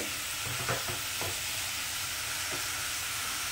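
Raw papaya and red lentil dal stirred in a pan over raised heat: a constant hissing sizzle with a few soft scraping stirs near the start and one more later, close and steady.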